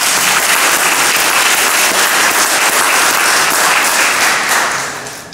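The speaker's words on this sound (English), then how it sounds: "Let's give them a round of applause." Crowd applause at a construction trades academy graduation ceremony, dense sustained clapping that stays loud and steady for about five seconds before tapering off at the end.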